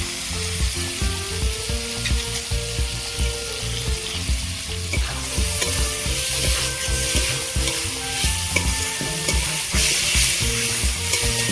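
Chopped tomatoes fry in a spicy fish curry masala, giving a steady, loud sizzle with stirring scrapes, while tonal background music plays underneath.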